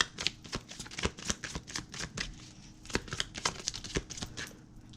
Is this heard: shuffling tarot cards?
yes